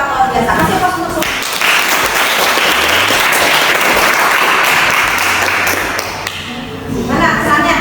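A classroom of students applauding all presentation groups, dense sustained clapping for about five seconds that fades out, with a teacher's voice heard before and after.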